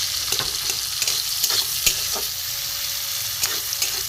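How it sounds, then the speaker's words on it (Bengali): Onion and tomato frying in a pan for a rohu fish curry, a steady hiss of sizzling oil broken by sharp scrapes and clacks of stirring at irregular intervals, close and without talk. "একটু ভালো করে ভাজা হোক"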